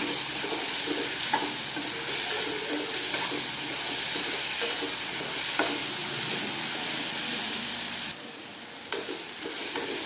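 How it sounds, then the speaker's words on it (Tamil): Mango and garlic sauté in a pan for a mango and garlic pickle, a steady loud sizzle running throughout with scattered stirring scrapes, easing slightly near the end; no one speaks. "நல்லா வதங்கணுங்க மாங்காய் பூண்டெல்லாம்"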